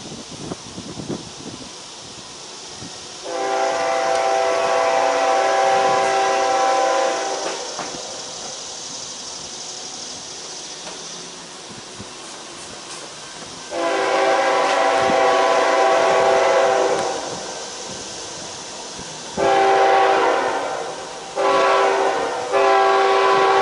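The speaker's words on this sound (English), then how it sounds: "here comes another train" A CSX northbound freight train passes on track 2 near Selma, with long loud horn blasts repeated several times over the rumble of the passing train.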